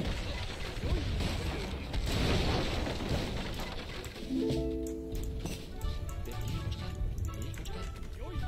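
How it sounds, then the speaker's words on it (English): Mortars boom in a match of the video game Age of Empires III, with heavy thuds and rumbling blasts mixed with clattering battle sounds and short game tones. "Mortars are so crazy good."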